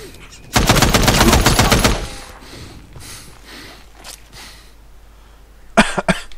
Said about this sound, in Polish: Leci następny jakiś tu strzał.